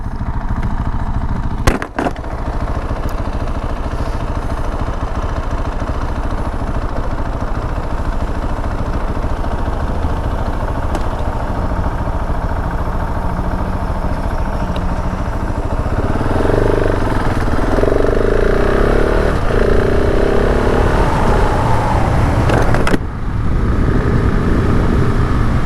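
2021 KTM 690 SMC R motorcycle engine running steadily and loud throughout, a continuous single-cylinder drone that rises in pitch as it revs near the end, with a brief sharp transient early on.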